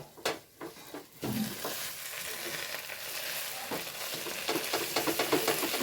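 Chicken sizzles in a hot pan as it is stirred, with scraping and clattering strokes over a steady close frying hiss that swells louder toward the end.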